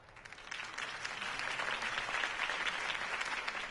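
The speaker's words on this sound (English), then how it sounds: "If only Mr. Wayne, my campaign's largest backer, could have heard that applause" Crowd applause in a Batman Telltale video game, greeting the end of Harvey Dent's campaign speech: steady, dense clapping that swells slightly and holds throughout, with no talk over it.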